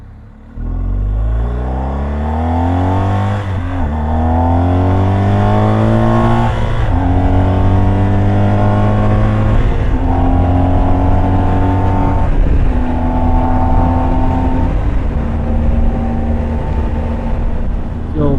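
A BMW R1250GSA motorcycle cruises on the highway at just over 80 mph on cruise control, with a loud, steady engine drone and a rumbling exhaust under constant wind roar, its pitch shifting only slightly.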